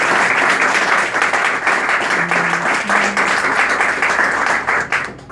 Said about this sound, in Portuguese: eu peço uma salva de palmas para eles nesse momento